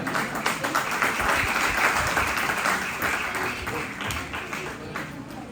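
Children at a kids' camp at an ashram clap together in sustained, steady applause, a dense patter of many small hands close by with a faint murmur of voices underneath.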